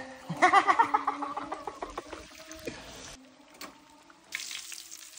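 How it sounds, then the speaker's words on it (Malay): Close, steady sizzling and crackling of ikan duri (catfish) frying in hot oil, with a few clinks of a utensil and a brief pause midway. "di sini kita tengok ikan duri goreng kita sudah masak"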